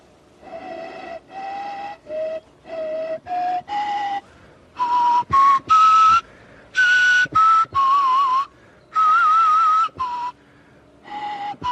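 Short breathy phrases on a reconstructed Aurignacian pentatonic flute, played close in a simple tune. Separate notes and groups of notes are broken by brief pauses, with no talking.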